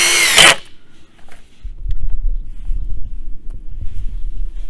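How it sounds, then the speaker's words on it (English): A power drill drives screws through cross members into 4x4 pressure-treated posts set in the ground outdoors, one short loud whir at the start, then low rumbling handling noise. "we're screwing in."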